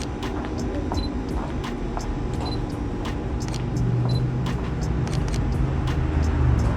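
Cars passing along a city street, a steady broad roadway rumble that swells as a vehicle approaches near the end, with faint clicks scattered throughout.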